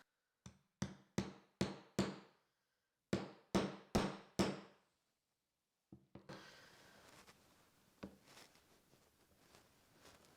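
Diamond chisels struck with a mallet to punch stitching holes in leather, two sharp bursts of about five hard knocks each, close and loud in a quiet room, followed by softer tapping and handling noise.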